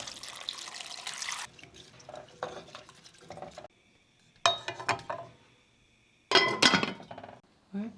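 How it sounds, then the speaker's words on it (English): Water splashes and pours into a pot of chayotes in a kitchen, in several short bursts with quiet gaps between them, close by. "I'm gonna put some water on our chayotes"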